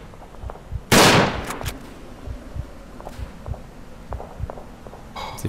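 A single loud explosive blast, like a grenade going off in a first-person shooter game, bursts near the start, followed by scattered quieter thuds and distant shots.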